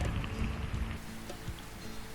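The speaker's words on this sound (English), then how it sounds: "it's raining again." Rain falls steadily on the jungle near Monrovia, Liberia, a soft, quiet patter with a few nearer drops that eases slightly toward the end.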